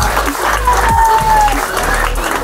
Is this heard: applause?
yes